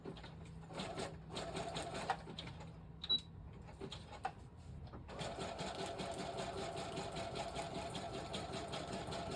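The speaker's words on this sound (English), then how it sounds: "And then I'm just gonna do a zigzag stitch." A sewing machine runs a zigzag stitch through sheets of junk-mail paper for homemade notepads: a steady, close mechanical whirr with a rapid rhythmic patter that carries on throughout, with a few small clicks near the start.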